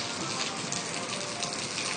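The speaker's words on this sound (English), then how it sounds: "It's raining at One Daytona, as you see." Steady rain pours down at One Daytona, a dense continuous hiss of drops striking surfaces close by, loud and even throughout with no voices.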